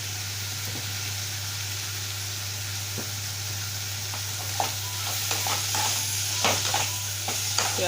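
Spoon stirring turmeric and chili powder through a mushroom curry with onion and tomato in a pan, a steady sizzle under a low hum broken by scraping clicks that grow busier toward the end.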